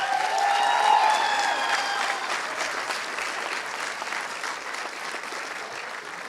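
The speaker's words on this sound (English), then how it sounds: "please give our MC, the voice of Southeastern, Joe Burns, a round of applause" An awards ceremony crowd applauds the MC, strongest at the start and then easing off into a steady patter, with some cheering mixed in.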